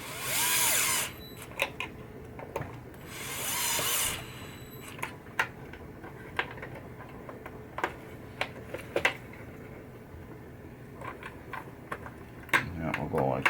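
Power driver running screws back into a 1967 Williams Blast Off pinball machine during a slingshot rebuild, with two short whirring bursts followed by scattered clicks and taps of parts being handled.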